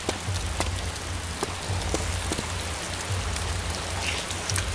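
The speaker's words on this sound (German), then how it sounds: "regnet das bei euch auch?" Steady rain in the video game DayZ patters densely on surfaces with occasional sharper drop clicks, a constant close wash with no talking.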